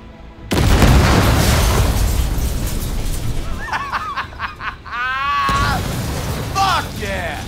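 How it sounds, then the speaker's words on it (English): A grenade explosion in the video game Cyberpunk 2077 blows up a truck with a sudden loud boom that rumbles on for seconds, while voices laugh and talk over the blast. "Throw a grenade at the truck."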